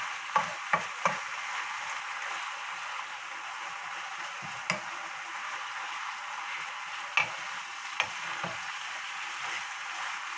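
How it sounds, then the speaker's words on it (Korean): Chopped kimchi and onion stir-fried in cooking oil, a soft continuous sizzle under a few sharp taps and scrapes of a spatula on the pan, close and fairly quiet. "김치에서도 이제 물기가 좀 있었고 양파에서도 물이 있고 래가지고는 아주 이렇게 맛있게 잘 볶아지잖아요"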